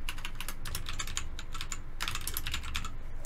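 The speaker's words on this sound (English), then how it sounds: "not what I'm typing." Fast, close typing on a computer keyboard, a dense run of sharp key clicks with a brief pause partway through, and no talking.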